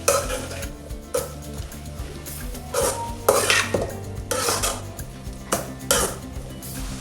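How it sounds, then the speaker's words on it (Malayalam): Banana stem stir fry being stirred and mixed in a pan: a spoon scrapes and knocks against the metal in irregular strokes, with a faint sizzle underneath. "ഇതിലേക്ക് നന്നായി ഒന്ന് മിക്സ് ചെയ്ത് കൊടുക്കാം."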